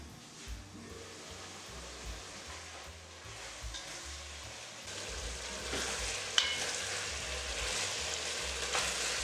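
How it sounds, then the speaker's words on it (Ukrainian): Onion, carrot and cabbage fry together in a pan for Italian-style braised cabbage, giving off a steady, close, hissing sizzle with soft stirring scrapes and no talking. "Цибуля, морква вже трішки протушкувалися, обсмажилися. І я викладаю капусту."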